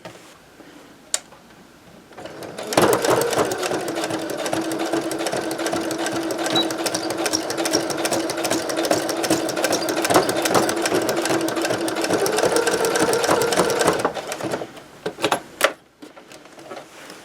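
A sewing machine stitches a decorative pocket onto a fabric tote bag, running steadily for about eleven seconds with a fast, even mechanical whir and chatter, close and clear, then stopping with a few small handling clicks.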